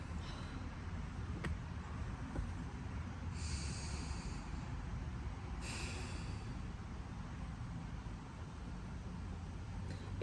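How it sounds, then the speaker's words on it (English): Two slow, deep breaths, each a soft rushing exhale, sit a few seconds apart inside a quiet car over a low background rumble. They are faint and close, with no talking. "take some deep breaths"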